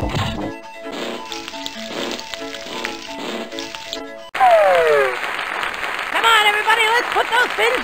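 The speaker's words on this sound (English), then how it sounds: "some applause!" Game music plays in Freddi Fish 3 (PC, 1998), then cuts abruptly to a burst of cartoonish crowd applause and cheering with chirpy synthetic voices, loud and sustained.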